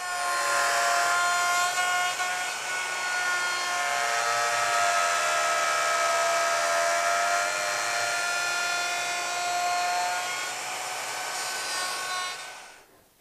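A router fitted with a flush trim bit hogs away wood in a steady, loud high-pitched whine with a dense band of harmonics, running continuously for about twelve seconds before spinning down at the end.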